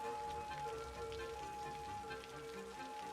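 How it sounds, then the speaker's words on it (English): Steady rain falls in an outdoor city square beside City Hall, a soft continuous hiss of drops on pavement with a faint tonal hum underneath, no voices. "Here by City Hall in the rain."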